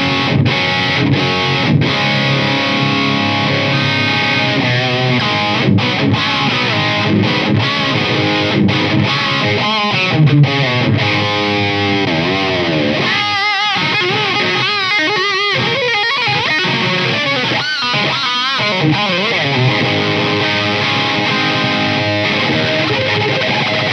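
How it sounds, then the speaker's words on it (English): An electric guitar runs through Blackstar LT distortion and LT drive pedals, playing a continuous stretch of saturated, gritty chords and riffs with short choked pauses and note runs, loud and alone with no talking. "These are the Blackstar LT pedals with the LT distortion and the LT drive."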